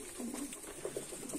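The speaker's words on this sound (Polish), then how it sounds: "Tam jest zrobione gniazdo przez gołębie" Low pigeon coos repeating in a loft where a nest has been built, a drawn-out call followed by several short pulsing ones, near and moderately soft.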